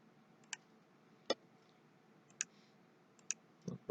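Computer keyboard key presses during an HTML coding tutorial, a few sparse, crisp clicks spaced irregularly over a quiet background, close and faint.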